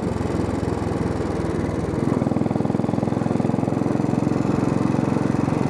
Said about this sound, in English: you really need to keep the RPMs up on a Royal Enfield, at least these older ones anyway